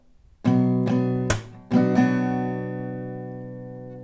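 Acoustic guitar chords strummed in a short down-down-clap-down-up rhythm with a sharp clap-like hit in the middle, then a final chord left ringing out.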